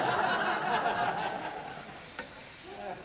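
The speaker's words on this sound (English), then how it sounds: "Now, it says you're supposed to saute the scallions until they wilt." Scallions sauté in hot oil for a chicken curry, sizzling loudly while being stirred and scraped around the pan, then fading a little near the end.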